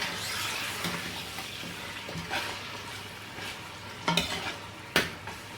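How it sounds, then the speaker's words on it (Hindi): Mutton sizzles with garlic and ginger in a pan, a steady close frying hiss broken by stirring scrapes and a few sharp clinks of a utensil against the pot. "तो सिर्फ 1 से 2 मिनट आपने इसको गोश्त को लहसुन अदरक के साथ भून लेना है।"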